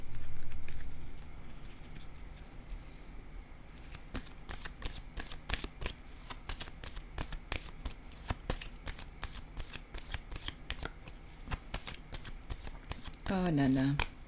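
Tarot cards are shuffled in a rapid, crisp riffle of close, dry flicks and slaps lasting several seconds, with a person speaking near the end.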